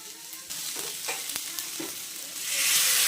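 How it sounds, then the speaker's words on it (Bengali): Potatoes frying in a pan with spices, sizzling steadily with clinks and scrapes of stirring, the hiss swelling louder toward the end. "আলু ভাজা চলছে"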